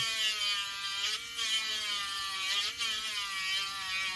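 A small rotary motor tool grinds leftover resin off a resin figure, a steady high-pitched whine with a close, continuous buzzing tone that dips briefly twice as the bit bites into the material.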